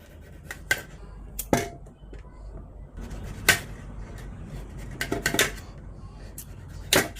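A knife chopping a carrot into small pieces on a board: scattered sharp, close cuts in uneven bursts, some single and some in quick pairs, over a quiet room background.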